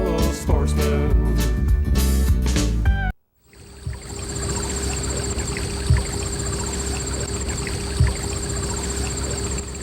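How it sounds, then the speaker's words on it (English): A small creek in Eaton County, Michigan, in mid-August: after a few seconds of music and a brief silence, a steady, close rippling and trickling of water continues alone, with occasional soft splashes. "You can hear the rippling of this little creek here in Eaton County."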